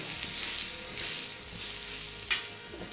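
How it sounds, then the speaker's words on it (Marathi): Whole spices, two or three cloves, peppercorns and pieces of cinnamon, frying in hot oil for soya masala, a soft steady sizzle with faint stirring scrapes and one brief louder clink near the end, no talking. "तर हे आपण छान परत परतून घेणार आहे हे मसाले।"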